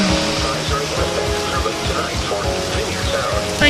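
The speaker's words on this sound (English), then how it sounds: "Oh, the rain." Rain pours down during a storm under a flash flood warning, a steady dense hiss with low gusty buffeting thumps running through it, close and continuous.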